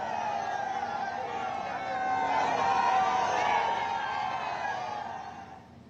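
Large crowd gathered in Simaria to welcome Prime Minister Modi, a steady roar of many voices and cheering that swells in the middle and fades at the end.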